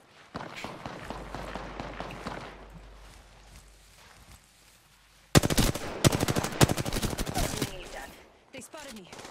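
Automatic gunfire in Apex Legends crackles in rapid bursts, first quieter and more distant, then loud and close in dense volleys, with footsteps and game sounds mixed in.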